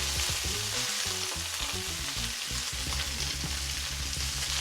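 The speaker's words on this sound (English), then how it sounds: "Now we're just gonna sear it." A côte de boeuf sears in a hot pan, a loud, close, continuous sizzle and crackle with occasional scrapes and shifting of the meat, with no talk.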